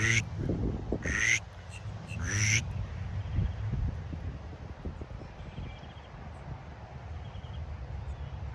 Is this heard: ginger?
no